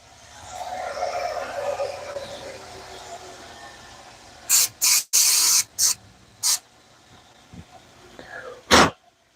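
Several sharp, close bursts of carburetor cleaner spray hiss in quick succession during work on a Sportster, followed by one last spurt after a pause, with softer workshop noise before them.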